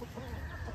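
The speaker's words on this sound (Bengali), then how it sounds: "এই হচ্ছে মুরগি চাষ করা হচ্ছে, এই যে দেশি মুরগি" Desi chickens cluck on a small farm in Ranaghat, a brief burst heard at moderate distance over a noisy, rushing background.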